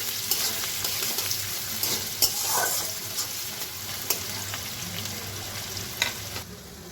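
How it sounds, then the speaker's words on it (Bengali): Chopped onion fries loudly in a pan for a bhetki fish curry, a constant close crackling sizzle broken by scattered scrapes and clicks of stirring, with no voices. "পেঁয়াজটা ভালো করে আমি লাল করে ভেজে নেব।"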